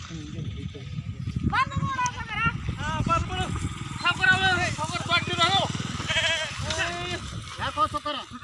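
Sheep bleating repeatedly over steady background noise, wavering calls coming in a loose series at close range, with people talking over the flock.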